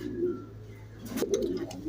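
A pigeon sitting on eggs at a pigeon farm coos softly nearby, low throaty calls with a brief clatter of movement partway through.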